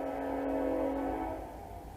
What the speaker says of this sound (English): that train's pretty far away and it's still making that kind of noise